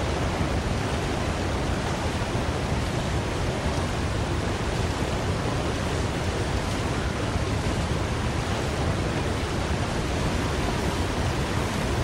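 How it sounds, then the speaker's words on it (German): An upper waterfall above a river roars in the survival video game The Long Dark, a dense, unbroken wash of noise that stays even and loud from start to finish with no talk. "Oder ist das einfach nur so laut, weil da der Wasserfall ist, was natürlich auch sein kann."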